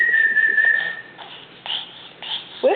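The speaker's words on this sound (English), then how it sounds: "can you whistle?" A child's thin, wavering whistle holds a note for about a second, then a few shorter breathy whistle attempts follow with soft background noise.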